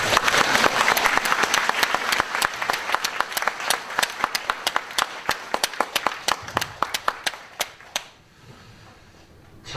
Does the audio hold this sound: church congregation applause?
yes